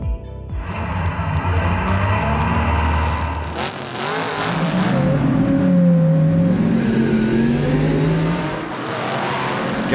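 Ferrari 250 LM racing car at the Goodwood Revival, its engine loud and close as it revs hard and accelerates, with the pitch rising and falling through gear changes and a steady roar running through the whole stretch.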